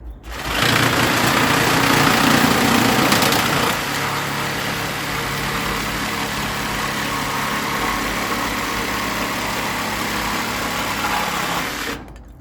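Cordless Ozito 18V jigsaw cutting through wood, a loud continuous buzzing motor whine with rapid blade chatter running steadily for about eleven seconds, close up and with no talking.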